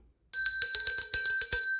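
A bright notification bell sound effect chimes alone in a quick run of about nine ringing strikes with sustained metallic overtones, loud and close, after a brief silence.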